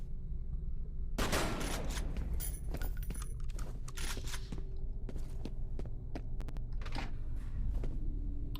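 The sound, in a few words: gunfire in F.E.A.R. video game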